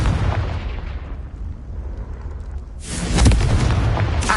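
A Confringo fire spell blasts in the Hogwarts Legacy video game, a loud booming explosion that swells after a lower rumble and rings out over game ambience.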